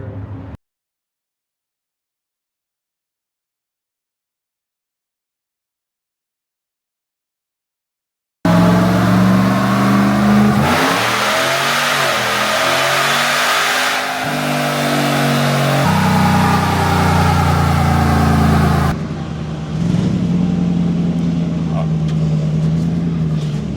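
A 2014 Ram fitted with a Whipple supercharger revs hard on a dyno toward 6,000 RPM. A loud, sustained engine roar rises and falls over several seconds, following near-silence at the start, with a brief dip near the end.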